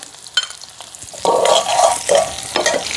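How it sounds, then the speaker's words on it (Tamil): Onions and curry leaves being sautéed in a pan. Quiet scraping at first gives way to a loud hissing sizzle as food hits the hot oil, then stirring continues close up. "இப்போ எல்லாத்தையும் சேர்த்து நாங்கள் வடிவாக வதக்கி விடுவோம்"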